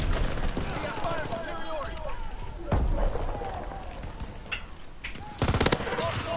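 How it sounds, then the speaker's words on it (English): Burst rifle fire in a first-person shooter video game, scattered short bursts and sharp shots at mid distance amid game ambience, with a louder cluster of shots near the end. "this burst rifle sucks so much"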